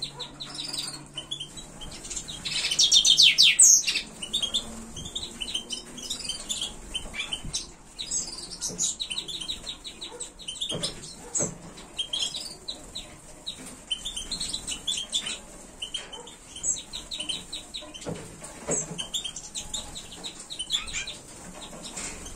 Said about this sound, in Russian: записать видеоролик о своих певчих птиц в вольере, как они поют и кушают